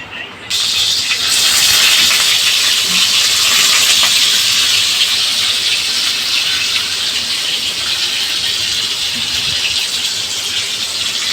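Chicken kathi kebab sizzles hard in white oil on a long-heated griddle, a loud, steady hiss and crackle that bursts in suddenly and holds through to the end.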